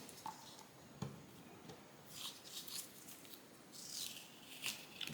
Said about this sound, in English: Now let's get the tape off the back of them.